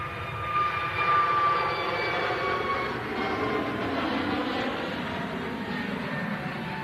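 Airbus A321neo rotating off runway 23 right at Manchester Airport, a steady broad jet engine roar holding loud and even throughout with no talk.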